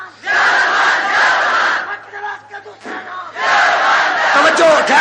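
A large crowd at a religious gathering shouts slogans in loud, massed bursts: a roaring chant, a brief ragged lull with scattered voices, then another surging unison cry.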